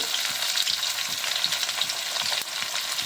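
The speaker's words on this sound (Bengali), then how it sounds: "এবার নেড়ে ছেড়ে আমি একটু লাল করে ভেজে নেব" Potatoes frying in hot oil in a pan after salt and turmeric are added, a steady dense crackling sizzle running throughout with soft stirring scrapes, close and fairly loud, no voices.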